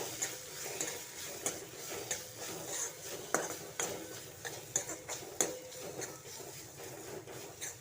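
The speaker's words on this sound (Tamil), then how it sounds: "கரம் மசாலா மஞ்சள் தூள் மிளகு சீரகம் எல்லாம் போட்டு நல்லா மிக்ஸ் பண்ணி விடணும்" Garam masala, turmeric, pepper and cumin are stirred into the base for a prawn curry in a pan, with repeated scraping and clinking of a metal spoon against the pan over a soft sizzle.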